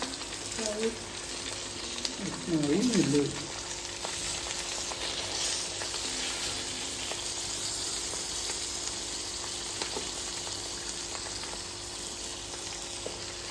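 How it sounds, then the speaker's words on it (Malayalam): Murrel fish sizzles on a banana leaf in a pan, a low continuous frying hiss with a brief burst of scraping as the fish is flipped near the start, and someone briefly speaks. "നിങ്ങളെ വരാലൊന്ന് നമ്മൾ മറിച്ചിടുവാണ് കേട്ടോ"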